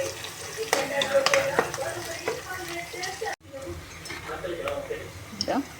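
Chicken curry ingredients fry and get stirred in a pan with fresh coriander, giving a steady sizzle broken by scraping spoon strokes and clinks, with a brief cut midway; a voice talks over part of it.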